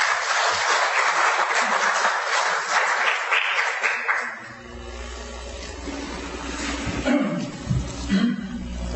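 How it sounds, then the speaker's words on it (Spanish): Audience applause welcoming a speaker at a mining law talk, a brisk round of clapping that dies out after about four seconds, leaving low hum and rustling room sounds. "Vamos a recibirlo con un voto de aplausos."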